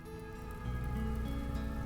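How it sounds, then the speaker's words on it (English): Rain falling in the video game RimWorld, a steady dense patter that swells louder partway through, with no voices. "Oh, now it's raining."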